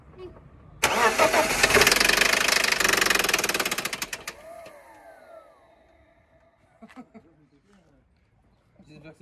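A BMW engine cranks and catches, running loud and rough with a harsh knocking clatter for a few seconds before cutting out, then faint voices and light handling noises follow.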